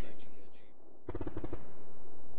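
A rapid burst of automatic gunfire rattles in a multiplayer shooter video game, following a muffled voice and a brief lull.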